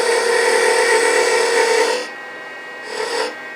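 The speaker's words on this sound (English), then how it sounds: "take our beading and parting tool and go ahead and take that down to a tenon" A beading and parting tool cuts a tenon on spinning wood on a lathe, a loud steady scraping rasp for about two seconds that then drops to a faint hiss with a brief renewed scrape.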